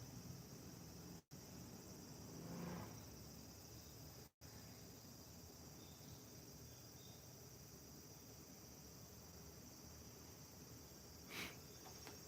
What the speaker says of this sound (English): it's right now summer, so you have the cicada chirping in the background